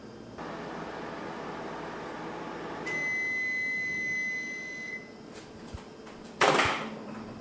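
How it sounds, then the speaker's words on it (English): A microwave oven runs for a minute heating a NutriSystem food product, a steady low hum with a sustained tone, followed by a sharp beep and door clatter near the end. "the next step is to microwave it for a minute"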